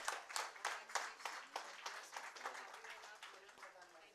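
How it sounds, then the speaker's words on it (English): A small audience at a business and startup forum applauding, distinct rhythmic claps at moderate distance, gradually thinning and softening over a few seconds. "Can we have a big round of applause?"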